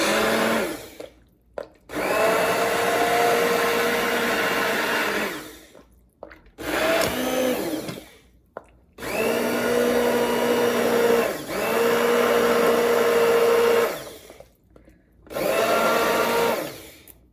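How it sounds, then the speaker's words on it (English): Loud, close blender whirring in several long bursts separated by short pauses, the motor pitch dipping as thick mushroom soup churns, no talking. "So I've used the blender"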